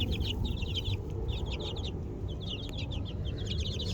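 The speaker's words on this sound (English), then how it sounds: "because these are laughing roosters." Four-week-old young laughing-breed rooster chicks cluck and chirp in rapid, repeated bursts close by, over a steady low rumble of background noise with no talking.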